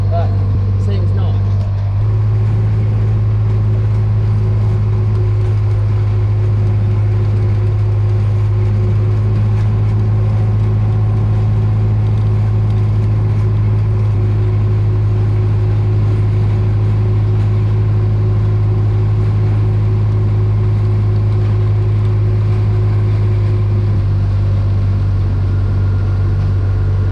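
A tractor engine drones loud and unbroken from inside the cab while seeding a farm field in Western Australia, a heavy low hum holding steady throughout.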